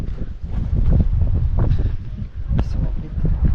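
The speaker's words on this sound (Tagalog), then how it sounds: "Grabe, ang lakas ng hangin." Strong wind buffets the microphone at a flower farm in Atok, Benguet, in a steady, loud roar with low rumbling gusts throughout, and faint voices may sit beneath it.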